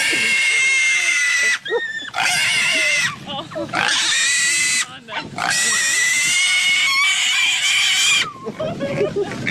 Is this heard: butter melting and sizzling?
no